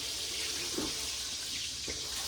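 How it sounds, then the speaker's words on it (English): Warm tap water runs steadily at a kitchen sink while groundhog meat is rinsed of baking soda, a close, continuous splashing hiss with small bumps as the meat shifts under the stream. "I've got to rinse out all this baking soda that's on the meat."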